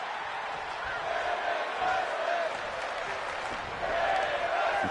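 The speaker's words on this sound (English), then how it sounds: "Crowd cheering for women's wrestling in the Pop Culture Punch-Out Coliseum" Crowd cheering and applauding at a women's wrestling match in an arena, a steady broad roar that swells slightly near the end, with no break or distinct single voices.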